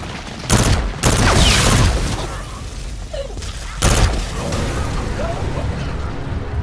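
Gunfire from a weapon in a video game: loud, sharp blasts near 0.5, 1 and 4 seconds rise over a dense, rumbling game soundscape, with speech mixed in.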